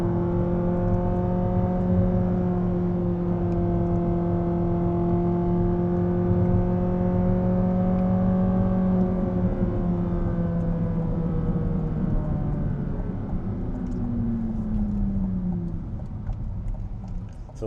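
A Chevrolet Corvette C8 Z06 with a dual-clutch transmission drives along, a steady, droning engine note heard from inside that holds its pitch before easing down toward the end.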